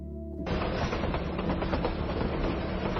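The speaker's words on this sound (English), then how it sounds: "The Wuppertal Suspension Railway is a breathtaking masterpiece of early industrial genius." The Wuppertal Suspension Railway train rumbles and clatters along with a steady rattling roar that starts abruptly and keeps running.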